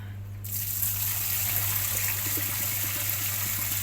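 Soaked soybeans being rinsed in water for soy milk, a steady close gush and trickle of running water over a low hum, with no talk.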